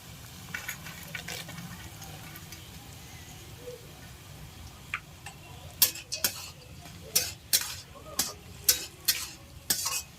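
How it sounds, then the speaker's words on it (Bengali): Cashews and raisins frying together in a pan with cinnamon, cardamom and cloves, a soft sizzle under scraping stirs that turn into sharper, louder clacks of the spoon against the pan in the second half. "এবার ভালো করে নাড়াচাড়া করলেই কাজু বাদাম কিশমিশ দুটোই ভাজা হয়ে যাবে একসঙ্গে।"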